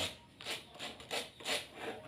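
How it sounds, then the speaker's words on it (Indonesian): Abrasive rubbing on a lightweight aerated concrete (hebel) ashtray, smoothing its edges; about four rhythmic scraping strokes, close and fairly quiet, with no talking. "Kita gosok ini ngalusin doang ya guys, nggak ngebentuk ya"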